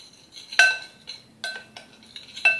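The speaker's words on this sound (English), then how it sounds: "Mix that, all the dry ingredients together" A utensil stirs dry pancake ingredients, flour mixed with stevia sweetener, in a bowl, making three or four bright clinks and scrapes against the bowl at a steady, unhurried pace.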